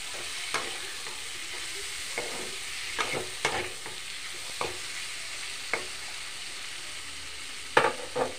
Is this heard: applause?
no